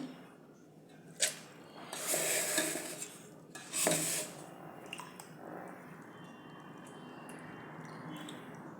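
Soaked dal and poha are tipped into a mixer jar with a few clinks and two bursts of pouring and scraping, then quieter handling sounds and faint room noise.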